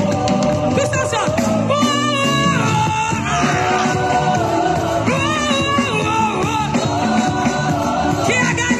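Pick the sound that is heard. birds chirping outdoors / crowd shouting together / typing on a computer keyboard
crowd shouting together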